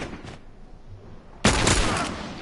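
A short burst of close, loud gunfire erupts in The Last of Us Part II after a faint earlier pop and quiet ambience.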